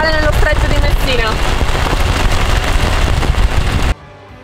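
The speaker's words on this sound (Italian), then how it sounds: "inizia a scendere una pioggia fitta" Dense, heavy rain pours during a thunderstorm over the Strait of Messina aboard a sailboat, a loud continuous hiss and patter that cuts off abruptly near the end, with a voice faintly audible in it.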